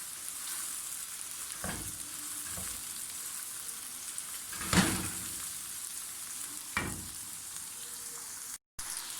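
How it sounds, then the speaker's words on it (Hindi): Chicken masala frying in a pan as tomatoes go in, a steady soft sizzle with a few scraping stirs and one brief louder splash midway, no talking. "ओके, मैं टमाटर डाल दूँगी इसमें।"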